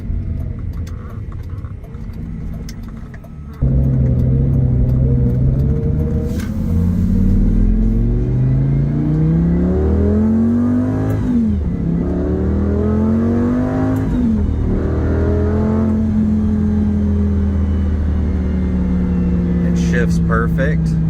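A 2006 Lamborghini Gallardo in sport mode with paddle shifting, loud close engine that idles low, then revs up and climbs through gears with audible shift dips, sustained strong roar for about twenty seconds.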